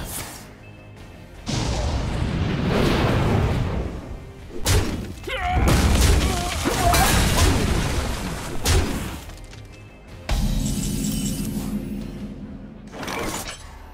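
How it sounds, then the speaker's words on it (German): Explosions in the card game Hearthstone burst out as repeated crashing, shattering blasts, loud and dense, separated by brief lulls, with game effects layered between them. "Explosionen bevorstehen"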